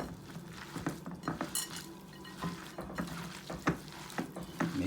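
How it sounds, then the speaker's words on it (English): Egg being worked by hand into cabbage roll filling in a bowl, giving soft squelching and occasional clinks against the dish, close and fairly quiet, with no talking. "I'm going to mix this up real good"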